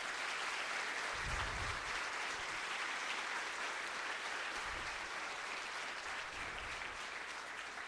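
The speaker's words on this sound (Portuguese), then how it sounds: "Você pode dar um aplauso para o Senhor bem forte?" A church congregation applauds together, a steady wash of clapping at moderate distance that holds evenly throughout with a few low thumps underneath.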